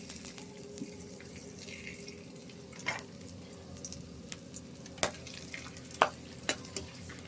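Whole spices, bay leaf, cardamom and cloves, fry softly in a pan. A faint, steady sizzle carries scattered clicks and taps from stirring, with no talking.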